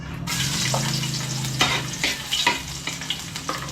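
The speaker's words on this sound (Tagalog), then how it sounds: "Hulog na natin yung bawang." Garlic dropped into hot oil in a pan while cooking fresh pansit, a steady sizzle with a low hum from the stove, then rhythmic scraping and tapping of a utensil stirring, close up.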